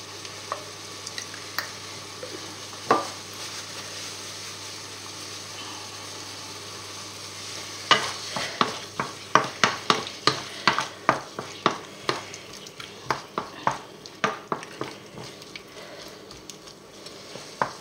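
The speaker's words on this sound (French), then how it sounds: "On va laisser un peu frémir." Squid à la basquaise simmers and sizzles in a pan, a low steady frying hiss that turns into a run of sharp spoon-against-pan scrapes and clicks in its second half, close and fairly loud with no voices.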